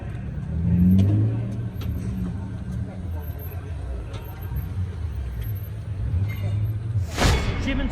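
A Vauxhall Cavalier GSi classic touring car races past at the Oulton Park circuit. A revving engine swells and fades under someone talking, and a loud rushing burst comes near the end.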